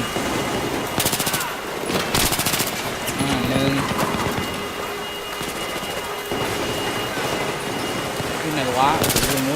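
Gunfire in the video game Battlefield 3 campaign, rapid machine-gun bursts and scattered shots cracking across a noisy battle bed, with a voice talking over parts of it.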